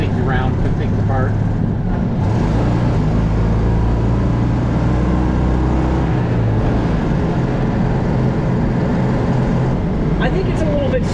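Citroën 2CV with a 29-horsepower engine carrying passengers, droning low and steady while driving, with cabin rumble filling the background.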